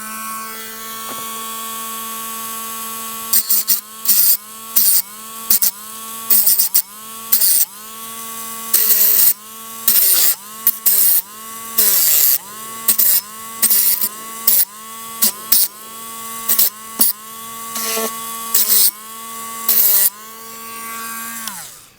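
Rhythmic bursts of abrasive scrubbing as model railway rails are cleaned and sanded before soldering, short strokes repeating steadily and close up over a continuous tonal background.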